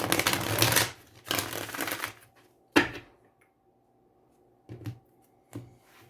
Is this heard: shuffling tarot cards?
yes